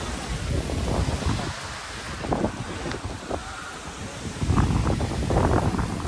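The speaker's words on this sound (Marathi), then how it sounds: "तो खालची वॉटरफॉल आहे।" Dhangar Waterfall near Badlapur in monsoon roars as a steady broadband wash heard from a distance above, swelling slightly toward the end with wind buffeting the microphone.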